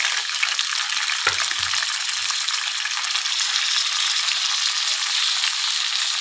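Ivy gourd and green chillies fry in oil over a medium flame, giving a loud, constant close-up hiss and sizzle throughout, broken by a short low knock early on, with no voices.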